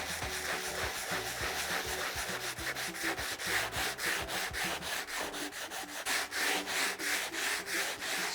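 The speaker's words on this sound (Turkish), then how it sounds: "sünger zımpara yardımıyla zımpara yapıyoruz" Steady, rhythmic rubbing of a sanding sponge against a painted wooden coffee table, quick back-and-forth strokes continuing throughout, close and fairly quiet.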